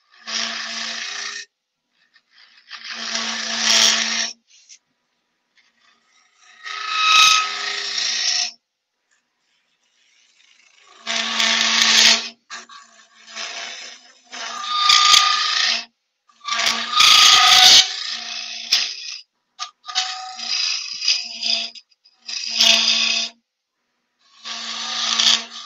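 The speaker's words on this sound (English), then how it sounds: "This is an Ashley Oils spindle gouge called a Long and Strong." A spindle gouge cuts a wooden goblet spinning on a lathe in repeated scraping, rasping passes of one to three seconds each, separated by short silences, close and loud.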